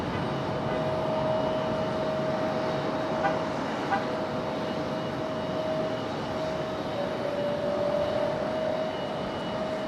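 A JetBlue jet airliner departs Raleigh Durham airport in gusty wind, its engines a steady broadband roar with a thin sustained tone throughout, loud and continuous.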